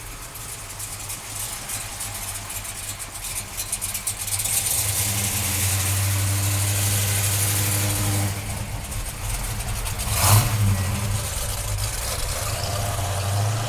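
A 1968 Dodge Charger with a Ray Barton Hemi engine rumbles at a loud, close idle, then climbs into a sustained higher-pitched rev, with a sharp burst of throttle near the end before settling back.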